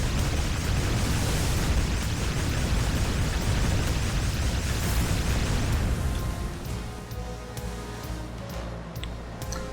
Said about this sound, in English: Enemy transport ship sunk.